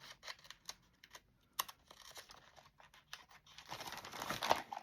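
Paper being cut and handled for a journal page, with quiet intermittent snips, rustles and crinkles close by, growing busier toward the end.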